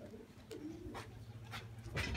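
Pigeons coo softly in a few low, rounded calls spaced about half a second apart, close by but quiet, with faint background rustle and no talking.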